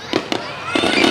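Fireworks bursting at a 2019 Tet New Year celebration at a national tourist site, a few quick sharp bangs followed by a crackling cluster of pops, loud and fairly close.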